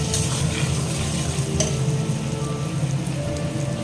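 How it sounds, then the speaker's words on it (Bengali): Spice paste with red chili powder and salt fries in a pan while being stirred: a dense, steady sizzle, close and loud throughout, with faint scraping mixed in. "এবার এটাকে খুব ভালো করে একটু কষিয়ে নেব।"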